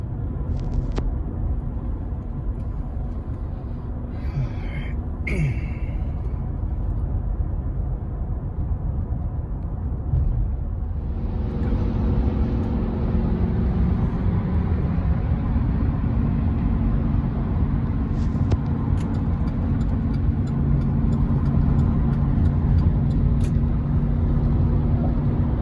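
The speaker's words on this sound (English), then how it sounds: "This truck is hauling this thing like nothing." A truck hauling a racing pigeon trailer on the highway gives a steady, loud low rumble of engine and road noise that heavies up midway and continues unbroken, heard from inside the cab.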